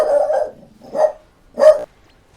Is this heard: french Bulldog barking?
yes